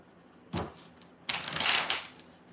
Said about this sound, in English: This is that new deck, so it's still kind of tough to shuffle.